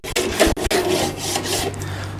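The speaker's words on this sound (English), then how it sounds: "Scrapes it right off there." A grill brush scrapes across a barbecue grate in a few quick rasping strokes, followed by a longer, steadier scrub, close and fairly loud with no talking.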